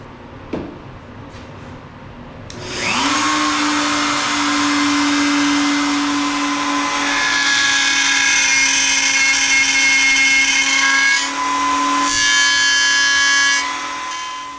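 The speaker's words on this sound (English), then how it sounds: "With the jig and the routers all zeroed in, I start out and do the tailboards first" A handheld router cuts dovetail tailboards in cherry through a jig, spinning up to a loud steady whine that holds for about eleven seconds with slight pitch shifts as it moves along the board, then briefly dips and winds down.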